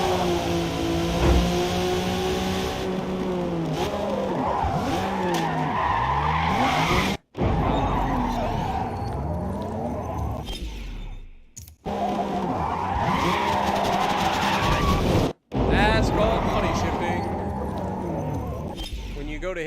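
Car tires skid and squeal through a drift on wet pavement in Forza Motorsport, engine revving underneath, with a person talking over most of it and two brief dropouts breaking the sound.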